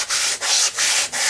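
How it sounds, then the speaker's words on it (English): Sandpaper rubs over a scale model starship saucer around its windows in four quick, even back-and-forth strokes, close and scratchy. "sanding that a little bit more"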